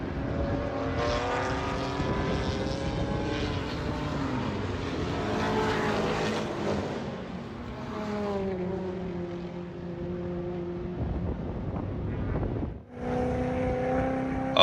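Race cars, including BMWs, roar past together on the track at New Jersey Motorsports Park, their engine notes rising and falling as they sweep by close and loud, with another car cutting in near the end.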